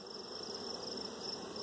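Honey bees buzz in a steady, even drone while queens are being caged, a close continuous hum that holds without a break and carries no talking.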